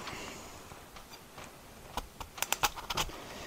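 Knife cutting a frost-damaged spot out of a hard acorn squash, heard as a quick cluster of sharp close clicks and taps near the end, following quieter scraping.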